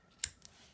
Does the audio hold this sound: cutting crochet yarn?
yes